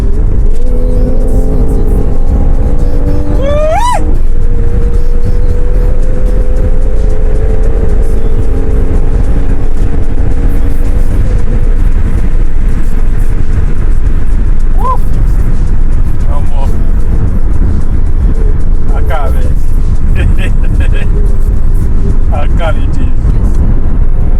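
A Mercedes-AMG GLC43 accelerating in Sport Plus mode, its engine note rising and falling through gear changes with a steady loud drone inside the cabin and brief higher whines standing out.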